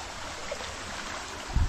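A strong river fed by a spring flows steadily and close by, a broad hiss of water. A brief low thump breaks in near the end.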